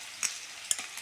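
Chopped onion fries in a pan with a soft, faint sizzle, broken by a couple of brief clinks and scrapes from stirring.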